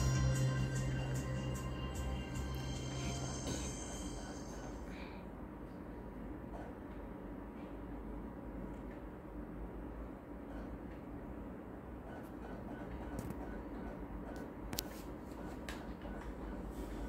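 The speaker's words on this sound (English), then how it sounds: "Let's get our train!" A train in the GTA V game rumbles in a low, steady drone with a faint high whine fading early, continuous and moderately quiet with no talk.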